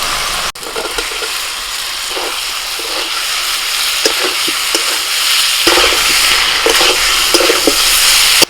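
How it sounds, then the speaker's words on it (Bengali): Fried potatoes being stirred into a spice paste in hot oil, likely over a wood fire, giving a steady broadband sizzle with occasional scraping stir strokes throughout, close and fairly loud. "আলুটাকে 1 মিনিট কষিয়ে নিয়ে এবার দিয়ে দিচ্ছি লবণ দিয়ে ফেটে রাখা টক দই।"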